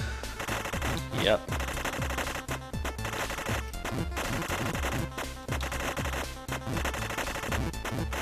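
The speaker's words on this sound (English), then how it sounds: "they're probably gonna send in the guy with the machine gun" Rapid machine gun fire from the indie video game Super Amazing Wagon Adventure Turbo rattles in dense repeated bursts over game music and effects, with a brief spoken word.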